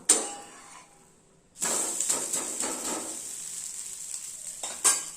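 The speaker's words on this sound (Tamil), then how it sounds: "இப்போ நான் தோசைக்கல்லில் ஊற்றிருக்கிறேன் ஃப்ரெண்ட்ஸ் அடை சைஸுக்கு" Adai dosa batter poured onto a hot dosa griddle crackles into a bright, steady sizzle after a quiet pause, with a few light clinks of a utensil against the pan.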